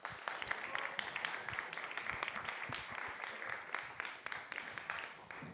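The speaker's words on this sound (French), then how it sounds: "on peut les applaudir" Audience in a hall applauding two presenters: dense, continuous clapping with sharp individual claps, fairly faint and even throughout, with no talking over it.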